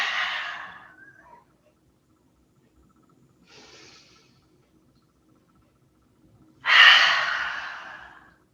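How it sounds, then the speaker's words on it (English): Deep breaths during a chair yoga session: one long breathy exhale fades out, a softer breath follows after a pause, then a loud rushing exhale tapers away. Close and unvoiced, with no talking. "Big breath in. And out."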